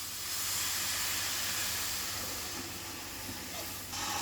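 A cup of milk hits hot caramelised sugar in a pan, giving off a loud, steady steam hiss that holds throughout and drops away slightly near the end.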